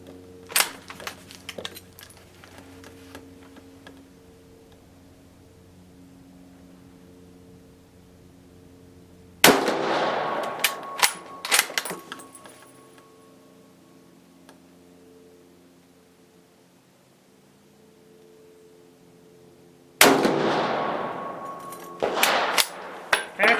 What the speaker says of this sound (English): I'm going to put some rounds down range just to see how it shoots